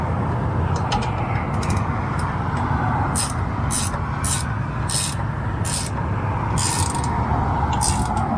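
Ratchet strap being cinched down on a Blue Ox RV towbar, a steady mechanical rasp with sharp clicking bursts repeating irregularly throughout, close and fairly loud with no talking.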